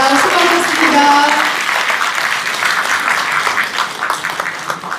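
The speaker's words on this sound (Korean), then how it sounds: "고성국 박사님께 다시 한번 박수 부탁드립니다." Audience applause at a book launch event in Daegu, a loud burst of many hands clapping that gradually thins and fades over a few seconds.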